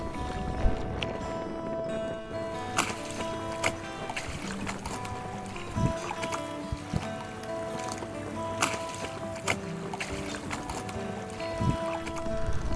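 A small yawl boat engine drones steadily near the water, pushing an engineless sailing schooner, with occasional knocks and creaks over a continuous hum.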